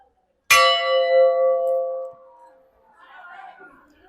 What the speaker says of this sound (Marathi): आणि हा असा खूपच मोठा घंटा आहे.